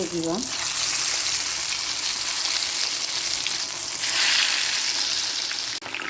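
Pieces of jegujje kabab frying in hot oil, a loud steady sizzle and crackle that runs throughout and flares slightly midway.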